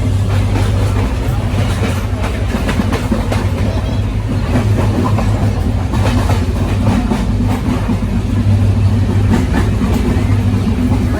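A passenger train rolls steadily along the rails with a loud, continuous rumble and rhythmic clatter, heard close up from on board.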